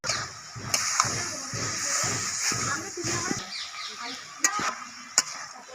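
Ginger paste goes into spinach stem curry, which is stirred in a sizzling pan, giving repeated scraping strokes over a steady hiss, with a few sharp clinks and light voices in the background.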